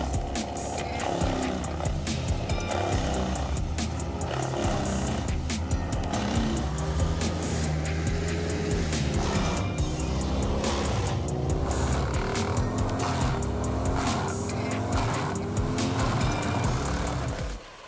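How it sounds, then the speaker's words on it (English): A Vermeer TG7000 tub grinder crushes wood debris with a dense, loud, continuous engine roar and grinding clatter, steady throughout with frequent sharp knocks. "TG7000 tub grinder is an advanced solution in wood waste management, able to crush large amounts of wood debris with ease"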